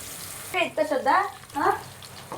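Crushed ginger and garlic hit hot oil in a home kitchen pan, bursting into sizzling hiss that swells and fades in a few waves, loud and close, with a voice speaking over it.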